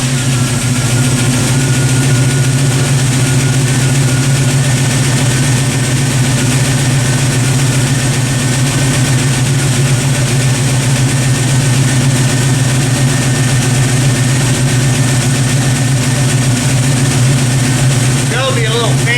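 An old car engine idles steadily and loudly up close while a cooling fan runs, a constant low hum and whir with no break.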